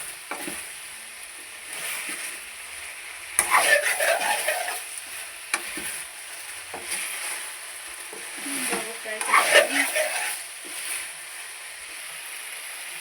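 Fried veg (gobi) Manchurian is tossed and stirred in a pan, with a continuous crackling sizzle broken by two louder scraping, clattering bursts of mixing, and no talk.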